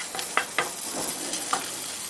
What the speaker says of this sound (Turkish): Ve kuyruk yağlarını yavaş yavaş kızdırmaya, eritmeye başlıyoruz.